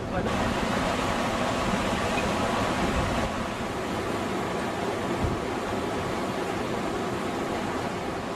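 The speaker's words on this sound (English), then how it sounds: "I've actually been sitting here painting in the rain as it's pouring down." Heavy rain pours down outdoors in a loud, dense, unbroken hiss that fills the whole stretch with no pauses.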